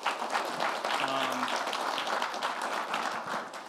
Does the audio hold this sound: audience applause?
yes